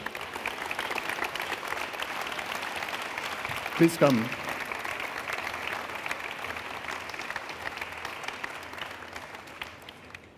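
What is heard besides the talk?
audience applauding award winners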